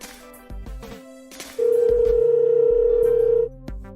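An incoming call on a mobile phone sounds as one steady electronic tone lasting about two seconds, clear and fairly loud over a background of faint room noise and soft knocks.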